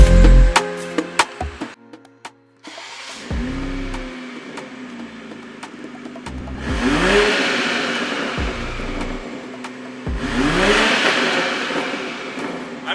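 A BMW M340 fitted with a Dinan exhaust, VRSF downpipe and MST air intake revs repeatedly, each throttle blip rising and falling in loud, close bursts separated by idle, with no talk.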